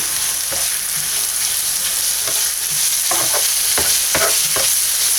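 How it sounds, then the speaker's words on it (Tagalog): Minced pork sautéing with onion and garlic in a pan for relyeno bangus: a loud, constant sizzle broken by repeated sharp scrapes of a spatula, coming quicker toward the end, with no voices. "So, igisa lang din natin to hanggang maging golden brown."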